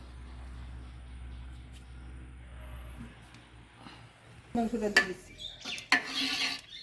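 A spoon scrapes and clatters against a metal pot as rice is layered over chicken for biryani, a few sharp clinks and scrapes arriving in a burst near the end after a quiet stretch with low background hum.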